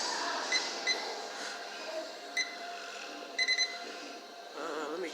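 A kitchen timer is set during pork chop dinner cooking, giving several short electronic beeps: scattered single bleeps, then a quick cluster of three near the end, close and clear over a soft hum.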